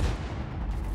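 A single heavy howitzer shot from the game Space Engineers: one loud, deep booming blast that fills the whole second and rolls on without any pause.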